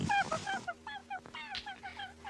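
A Polish hen makes a quick run of honking, goose-like clucks and squawks, close and fairly quiet, in short irregular bursts.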